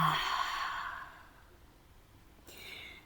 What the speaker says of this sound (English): I'm going to take one clearing breath together, in through the nose and out through the mouth